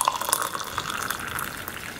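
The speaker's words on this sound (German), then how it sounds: "Heißes Wasser habe ich schon gemacht. Gießen wir den Spaß mal auf." Hot water pours steadily into a Bundeswehr EPA ration pack, a close, continuous splashing trickle lasting a couple of seconds with no speech.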